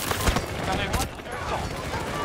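Gunfire in the video game Battlefield 2042, rapid bursts of shots close by with a few sharper cracks, continuous over a noisy battlefield.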